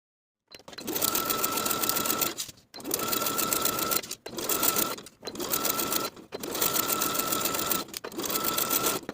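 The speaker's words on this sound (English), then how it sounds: "edge stitch close to the upper inner fold all the way around for both legs" A sewing machine edge stitches the hems of linen shorts in five runs of steady rapid stitching, each lasting one to two seconds and separated by short pauses, close and clear.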